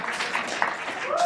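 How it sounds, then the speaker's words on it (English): An audience at a school spelling bee claps for the first, second and third place winners, a short burst of applause blended with a voice talking over it. "Let's give them a round of applause again."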